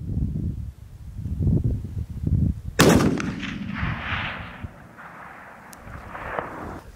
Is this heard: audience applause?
no